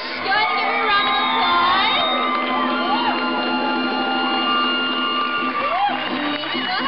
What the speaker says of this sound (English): Go ahead and give her a round of